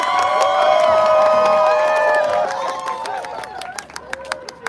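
Union members at a labor rally cheer, shout and applaud as a speaker is brought up, loud crowd noise with whistles and whoops that thins into scattered sharp claps.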